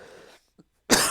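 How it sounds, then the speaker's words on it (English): A single sharp cough bursts out loudly near the end, after a stretch of muffled background noise and a brief faint click. "There's Corona cough for you."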